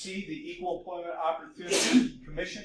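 A single sharp sneeze bursts out midway through a man's steady lecture-style talk, loud and close, with speech resuming right after.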